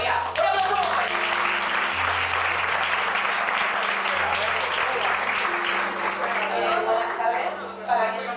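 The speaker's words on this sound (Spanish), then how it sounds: "Oiga, un aplauso muy fuerte." A packed audience at a Spanish talk bursts into sustained, loud applause, dense clapping filling the whole stretch with a low music or hum underneath and a voice speaking over it.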